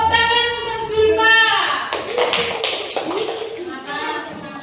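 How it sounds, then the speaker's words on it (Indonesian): A fifth-grade class claps for Zulfa after a teacher's voice, a brief patter of children's hands beginning under the speech and continuing in scattered taps. "Tepuk tangan untuk Zulfa"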